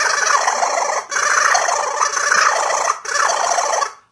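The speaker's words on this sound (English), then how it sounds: "when you have the aperture open, and when you wave it in the air," A handheld squeaker toy waved through the air with its aperture open gives loud, warbling, gobble-like squawks in three long bursts separated by brief gaps, close and alone.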